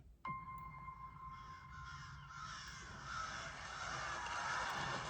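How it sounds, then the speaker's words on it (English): Crows caw faintly in the distance over a quiet, hollow background, with a sudden onset near the start and a slowly swelling ambience. "Are those crows?"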